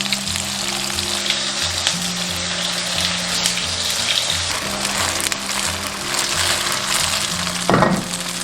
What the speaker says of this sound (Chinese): 豆腐这样提前煎一下